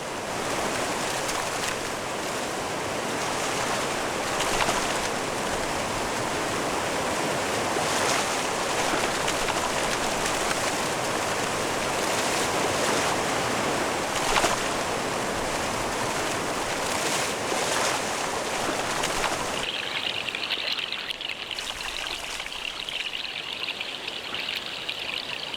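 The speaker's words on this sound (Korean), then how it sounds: "급류와 폭포는 만만치 않은 상대다." River rapids and a waterfall that salmon must pass on their way upstream to spawn make a continuous rushing, churning roar for over twenty seconds, then turn thinner and brighter near the end, with no voices.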